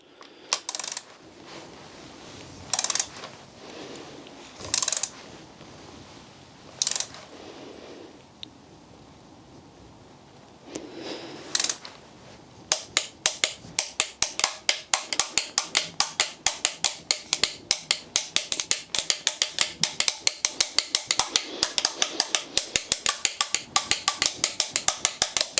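A torque wrench tightens the rocker cover bolts on a Mini Cooper N14/N18 engine, first with a few scattered sharp clicks, then a long run of rapid, regular ratchet clicks, close and crisp.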